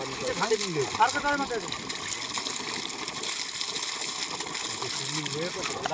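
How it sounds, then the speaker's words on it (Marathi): Water gushes steadily from a newly found groundwater source, a continuous rushing wash that runs throughout while people talk over it. "पाणी लागलं ना पुरातलं पाणी आता नितळे आलं हो नितळे आलं"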